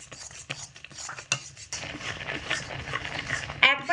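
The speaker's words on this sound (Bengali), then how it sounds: "এইভাবে কিন্তু অনবরত নাড়াচাড়া করতে হবে না হলে আবার চালের গুঁড়ো দলা পাকিয়ে যাবে" Rice flour being stirred continuously in a pan while making aarisha pitha, a Bengali sweet, with nearby scraping and clinking of a utensil against metal that comes in irregular bursts before growing steadier.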